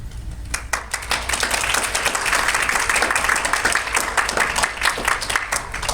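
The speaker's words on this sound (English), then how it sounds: "So let's give Mr. Romero another round of applause" Audience applause after a spoken word performance, dense hand clapping from a room of listeners that holds steady at full strength for several seconds without talk over it.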